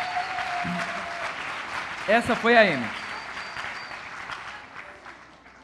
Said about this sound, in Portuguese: salva de palmas para a Amy